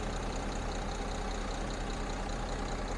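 A Mercedes GLE350's V6 engine idles smoothly, a quiet steady low hum with a faint regular pulse, no voices.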